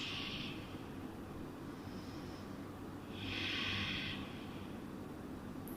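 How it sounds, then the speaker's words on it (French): Slow deep breaths during a vinyasa yoga session, two soft airy exhales rising gently out of a steady background hiss, quiet and close. "Dernière respiration."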